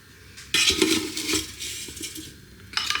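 Steamed broccoli and cauliflower are moved from a pot into a dish: metal utensil scrapes and clinks against cookware in short bursts, with a soft moist rustle of vegetables, close by and without talk.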